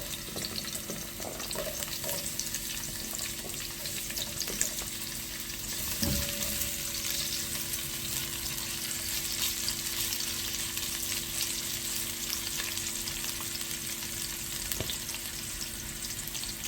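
Sliced onions fry in olive oil in a pan, giving a steady, close sizzle throughout, with a faint clink of a utensil partway through and no talking.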